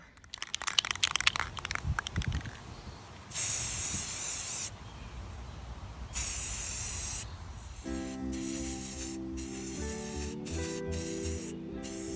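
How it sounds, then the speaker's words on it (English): Rust-Oleum Black Gloss Protective Enamel spray paint hisses out of a can onto a base in several long bursts with short pauses between, joined by steady background music partway through. "the first step is to spray paint the base"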